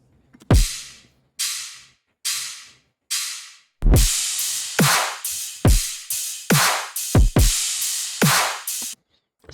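Sparse electronic drum pattern from a tearout brostep remix drop: a few loud, punchy kick-and-snare hits spaced apart, then a denser run of heavy hits including double hits, with no voices.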